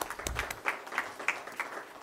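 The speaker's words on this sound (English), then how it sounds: "I hope you hear us clapping for you." Applause at a school board trustees meeting, a short burst of scattered clapping from a small group, fairly faint and uneven, lasting about two seconds.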